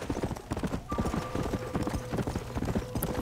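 A horse gallops in Red Dead Redemption Undead Nightmare, rapid rhythmic hoofbeats pounding steadily and up close, with a brief neigh-like tone partway through and game ambience behind.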